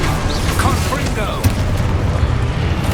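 Hogwarts Legacy's Confringo blasting spell explodes in a dense, rumbling boom with a sharp burst near the middle, set against continuous game noise and heavy low-end roar.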